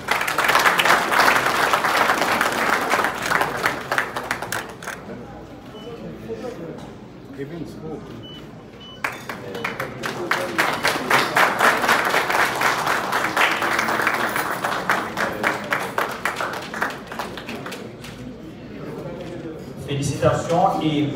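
Audience applause at a university chair launch ceremony, a sustained broadband wash of clapping that swells, dips briefly midway, then rises again over roughly twenty seconds, with some voices mixed in.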